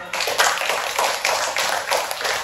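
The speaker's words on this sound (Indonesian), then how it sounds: "Luar biasa, tepuk tangan." Classroom audience of students applauding a student's presentation on ocean trash, steady close hand-clapping with rhythmic surges, no talk.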